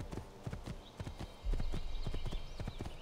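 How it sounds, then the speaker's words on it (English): Horse hooves galloping in the Assassin's Creed 2 video game, a steady run of clip-clop beats at a quick rhythm, fairly close and clear, with a brief whinny-like tone above and no talk. "And I'm on my white horse, which is amazing."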